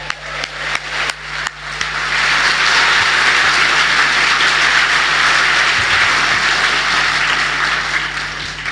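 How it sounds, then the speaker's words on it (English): A Brexit Party rally crowd in Wolverhampton breaks into applause: a few scattered early claps quickly swell into loud, dense, sustained clapping that fills the hall and carries on steadily to the end. "Round of applause for my mum and dad."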